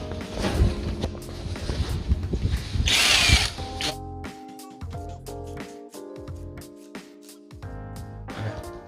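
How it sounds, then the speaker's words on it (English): A power drill driving screws into wood for a kitchen cabinet being converted into deep drawers, making several loud close whirring bursts that rise and cut off with short pauses between, with no talk. "now we're going to screw these screws into the wood."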